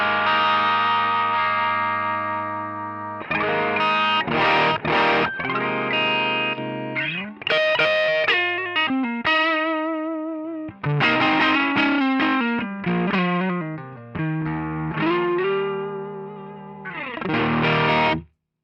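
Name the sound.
guitar through Line 6 DM4 pedal, Rat-style distortion model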